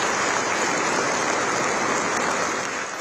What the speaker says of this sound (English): Applause flooding the Rashtrapati Bhavan.